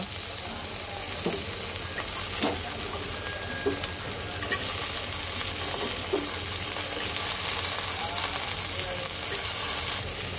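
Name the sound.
vegetables frying in a pan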